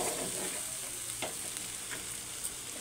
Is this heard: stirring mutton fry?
yes